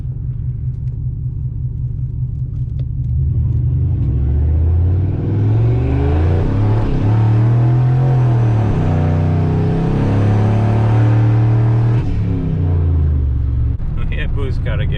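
A big single-turbo Ford F150 launches hard from a stop, its low rumble swelling into a loud rising roar with gear-shift dips, heard from inside the cab before it settles back down.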